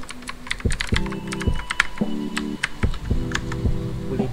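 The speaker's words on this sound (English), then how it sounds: "type nyo na lang yung gusto nyong password" Fingers type on a computer keyboard while entering a password in a router admin page: close, steady clicking keystrokes with a few heavier key thumps, in an irregular rhythm, and no one speaks.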